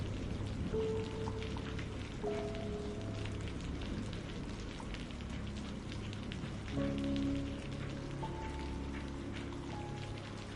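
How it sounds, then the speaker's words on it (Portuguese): Steady rain pours down during a storm, a dense continuous hiss of drops on surfaces with faint tonal hums underneath and no voices. "a chuva caindo em cortinas, o baixo rugido do trovão ao longe"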